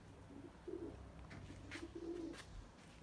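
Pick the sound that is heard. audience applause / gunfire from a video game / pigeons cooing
pigeons cooing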